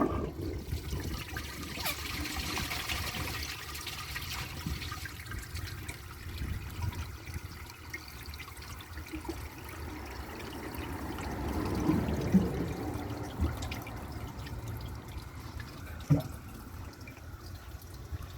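A 2001 Capizzi toilet flushes a washcloth, giving a faint, steady pour of water with soft gurgles, a brief swell midway and a small knock near the end.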